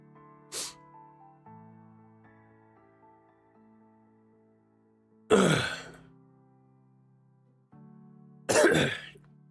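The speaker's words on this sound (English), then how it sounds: "I'm coughing like crazy now" A person gives three separate coughs, a short one first and then two harsher, louder ones, over faint, steady background music.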